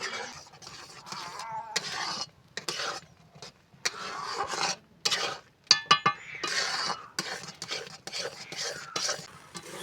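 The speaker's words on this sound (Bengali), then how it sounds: "সুজিটা আমি এইভাবে নাড়তে থাকবো, না হলে কড়াতে লেগে যাবে।" Semolina dough being stirred in a pan, with a utensil scraping and clinking against the metal in irregular strokes and short pauses, and a voice speaking at times.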